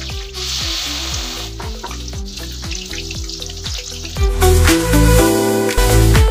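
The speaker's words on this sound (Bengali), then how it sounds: "আমি এভাবেই এপিট ওপিট করে 3-4 বারে ভালোভাবে বড়াগুলো ভেজে নিয়েছি" Loud, continuous crackling sizzle of water lily (shapla) fritters deep-frying in hot oil, growing denser and more intense toward the end, with a tonal background layered underneath.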